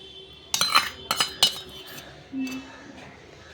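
Coffee is stirred in hot water in a glass, giving three sharp clinks of a spoon against glass in quick succession, then a soft scrape and quiet background.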